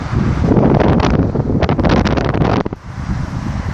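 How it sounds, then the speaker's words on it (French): Strong wind buffets a microphone in loud, gusty roars that flutter and crackle, easing off briefly near the end before picking up again. "c'est qu'il y a du vent"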